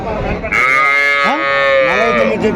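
A Holstein crossbreed cow at a cattle market in Palamaner lets out a long, loud, drawn-out moo close by, followed by a second shorter call, with faint background chatter.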